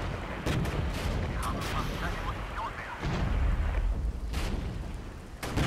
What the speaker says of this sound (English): So much artillery's being unloaded onto that Leopard unit.